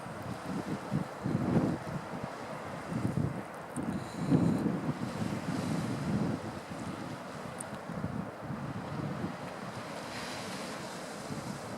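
Strong wind of 22 m/s roars steadily at Meremõisa on a cold coast, with surf churning underneath and gusts buffeting the microphone throughout.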